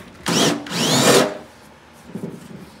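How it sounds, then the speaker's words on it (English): An air hydraulic riveter sets rivets while trailer ramps are installed: two loud, close bursts of buzzing mechanical noise lasting about a second each, followed by a fainter, rougher rattle. "we ended up doing the rest of our rivets with an air hydraulic riveter"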